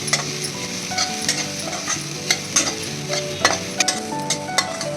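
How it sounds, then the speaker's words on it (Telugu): Semolina roasting in ghee in a pan, stirred steadily with a spoon, giving a continuous dry scraping sizzle with regular sharper clinks and scrapes against the metal, close and fairly loud, with no voices. "సిమ్లో పెట్టుకుని కొంచెం 1/2 స్పూన్ నెయ్యి వేసుకుని వేయించుకోవాలండి"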